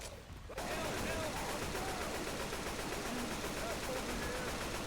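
Dense, continuous gunfire aimed at the Tank in Left 4 Dead 2 starts abruptly after a brief quiet moment, with rapid shots layered over one another and voices faintly mixed in.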